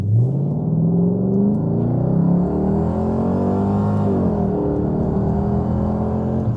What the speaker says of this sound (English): just going to accelerate for you in sport to 60